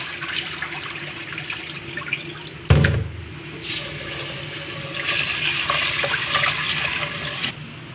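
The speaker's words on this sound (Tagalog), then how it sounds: "Dalawang beses lang hugas guys ang bigas." Rice being washed in water for pork sinigang, a steady close wet sloshing and running-water wash with a sudden louder splash partway through, alone without talk.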